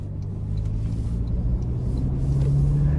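A 2025 Toyota Land Cruiser 1958 SUV drives along with a steady low engine and road rumble heard from inside the cabin, continuous and moderately loud with no talking.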